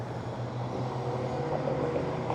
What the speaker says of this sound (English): I hear a train coming by.